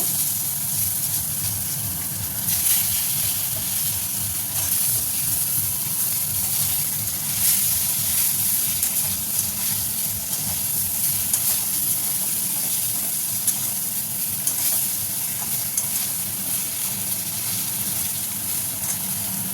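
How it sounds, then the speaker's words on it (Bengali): Steady sizzling and hissing of turmeric-coated eggplant frying lightly in hot oil, close and continuous, with occasional louder crackles and no talking. "বেগুনগুলো ভেজে নেবো হালকা করে"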